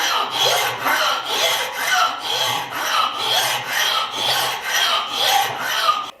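A farrier rasp files the wooden handle of an old farrier hammer in steady, rhythmic back-and-forth strokes, loud and close, about eight rasping passes with brief gaps between them.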